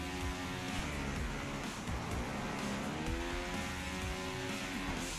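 Motorbike engine revving and speeding up in Trials Fusion, a loud continuous whine with rising and falling pitch sweeps as the throttle opens, steady throughout with a faint mechanical rattle.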